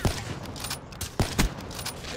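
Sniper rifle gunfire in the video game Black Ops 3, a few sharp, separated shots with quieter game noise between them.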